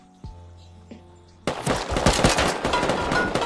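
Rapid bursts of automatic gunfire from a player shooting in the survival game Rust. The shots break out suddenly after a quieter start with a few faint thuds, then continue loud and dense to the end.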